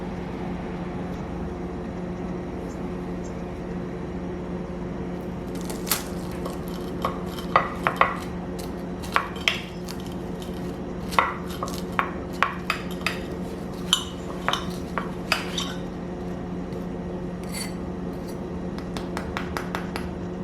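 Crisp crackles and sharp crunches as a knife cuts through flaky börek made with ready-made yufka, irregular bursts over a steady low electrical hum, with occasional clinks on a plate.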